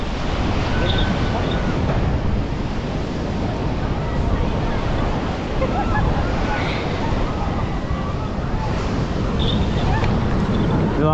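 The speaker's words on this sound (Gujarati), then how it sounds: "બહુ હવા છે અને મોજા બહુ આવે છે દરિયામાં" Strong wind and breaking sea waves on the shore at Somnath make a loud, continuous roar with heavy wind buffeting on the microphone. Faint voices can be heard in the distance.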